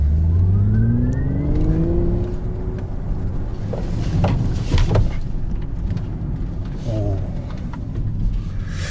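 A Hyundai Ioniq 6 N performs an emergency lane change on a test course, its synthetic engine-like drive sound rising and falling in sweeping pitch glides, loud and close, with tyre and road noise underneath.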